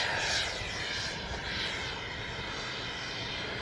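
An Arrows RC MiG-29 model jet flies past after takeoff, giving a steady, loud whooshing engine roar that swells briefly early on and then holds evenly, with no voices.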